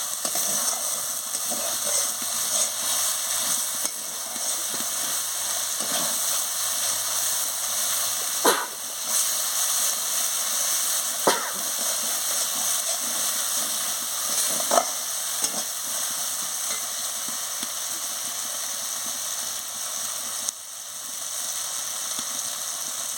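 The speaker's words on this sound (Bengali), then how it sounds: "সামান্য জল দিয়ে মশলাটাকে ভালো করে কষিয়ে নিচ্ছি" Spice paste frying with a splash of water in a pan for a soybean and papaya curry, a continuous loud sizzle and hiss broken by a few spatula scrapes.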